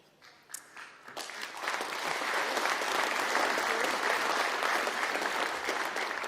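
Party conference delegates at a Fianna Fáil Ard Fheis break into applause: a few scattered claps first, then the clapping swells within a second into loud, sustained applause from a large hall crowd that holds to the end.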